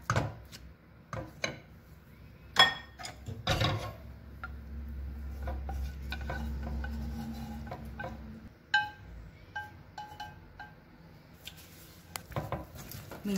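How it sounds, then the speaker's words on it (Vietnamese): Meat being mixed into mashed mung beans for Vietnamese sticky rice cakes, soft squishing and rubbing of the mixture with scattered clinks and taps of a spoon against a bowl, close and quiet. "đậu ghiền đã xong rồi thì mình sẽ trộn thịt vô nha"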